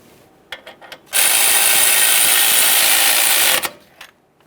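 A power tool runs the 10mm mounting bolt into a Ford F-150 wheel hub assembly, one loud steady whir of about two and a half seconds, with a few light clanks before and after.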